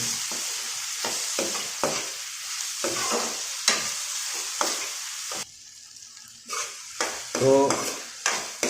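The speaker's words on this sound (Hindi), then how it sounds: "और टमाटर डालने के बाद सब साथ में अच्छा से भूनेंगे।" Chopped tomatoes fry with onion masala in a pan, stirred hard so that spoon strokes scrape in a steady rhythm over the sizzle. A brief quieter pause falls near the end before the stirring resumes.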